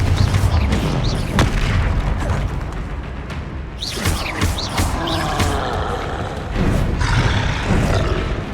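Confringo fire spell cast in Hogwarts Legacy, dense booming blasts and crackling impacts over a roaring combat din, loud and continuous with several sharper bursts.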